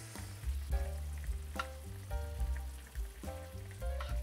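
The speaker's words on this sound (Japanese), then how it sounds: "沸騰してる状態、この状態のねぷくぷくしてる状態で入れます。" Beaten egg, about two-thirds of the batch, poured into boiling, bubbling oyakodon broth in a pan, giving a steady close sizzle and bubbling with a few soft clinks, no talking.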